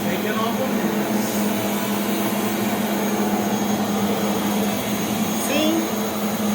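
A Rainbow D4C water-filter vacuum cleaner runs continuously up close with a loud, steady motor roar and a constant hum, while a voice speaks faintly under it.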